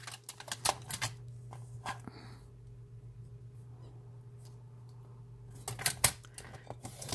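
Scissors cut paper for planner page markers, with bursts of close crisp snips and rustles at the start and end and a quiet hum in the pause between.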